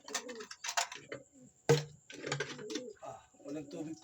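Pigeons coo in soft throaty bursts at a fancier's loft, close and intermittent, with a person talking over and between the calls.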